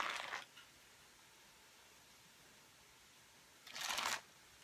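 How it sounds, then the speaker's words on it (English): Parchment paper peeled off moist dark chocolate cake layers, two brief crinkly rustling bursts separated by a quiet pause, close and fairly soft. "Just going to peel off the parchment paper."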